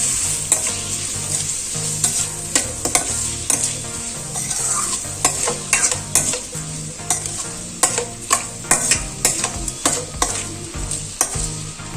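Onions and salt being stirred in a frying pan produce a close, steady sizzle broken by repeated sharp scrapes and clacks of the spoon against the pan, with no voices.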